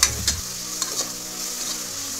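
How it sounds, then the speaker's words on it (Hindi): Onions frying in oil in a pan for a chicken and flat bean curry, a steady close hiss of sizzling with a few stirring scrapes near the start, no voices. "तेल डाल के प्याज के डाल देंगे, डालेंगे प्याज को, प्याज लाल होने के बाद से आधा चम्मच नमक डालना"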